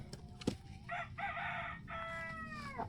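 A rooster crows in a single strong call that rises and holds before trailing off, close and loud, with a brief clatter at the start.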